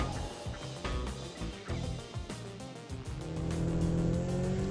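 A car drives along steadily, its engine and road noise rising toward the end, with a faint whine as it speeds up on a misty, dewy night.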